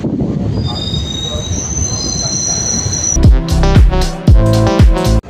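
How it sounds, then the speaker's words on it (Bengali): A train pulling out of Dankuni station gives loud metallic wheel squeals over a steady rumble, then heavy rhythmic clanks and thuds from the rail cars in the final seconds. "ফাইনালি আমাদের ট্রেন কিন্তু ছেড়ে দিয়েছে ডানকুনি স্টেশন থেকে"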